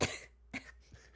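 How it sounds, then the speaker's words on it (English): A few short coughs, the first strongest, followed by two softer, quicker ones; close and fairly quiet, no talking. "This coughing is gonna last for a little bit."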